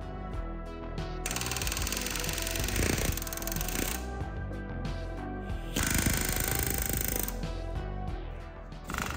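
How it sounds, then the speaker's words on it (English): Rapid pneumatic rivet-gun hammering as aluminum rivets are bucked on an aircraft fuselage bulkhead, a loud close chattering burst that runs nearly continuously with brief pauses and shifts in intensity. "So I'll go ahead and cleco this up here, and I'll buck some rivets."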